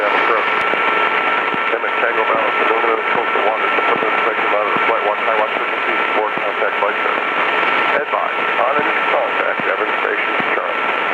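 Recorded ATIS weather broadcast heard over the radio in a Cessna 172 Skyhawk cockpit, a continuous crackly voice transmission with a steady radio tone over the constant drone of the aircraft engine.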